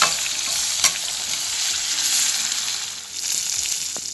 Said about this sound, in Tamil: நான் வந்து சிக்கனை ஃப்ரை பண்ண போடுறேன்